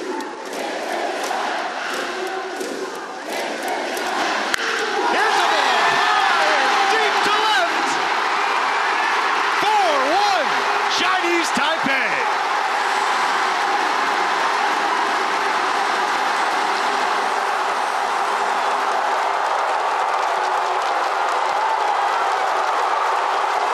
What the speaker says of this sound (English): They were chanting the name Gao Guohui all throughout.